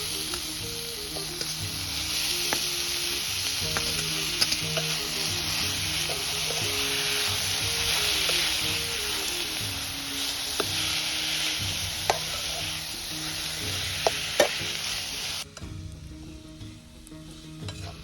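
Radish leaves fry in a pan for a Gujarati sabzi, a steady loud sizzle running throughout with repeated scraping stirs and light clinks, then cutting off abruptly near the end.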